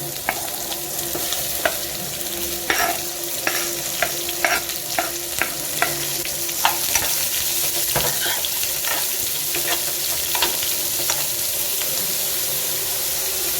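Sliced onions with green chillies being stirred in a hot pan, repeated close scraping clicks over a steady sizzle and light background hiss that runs throughout, with no voices.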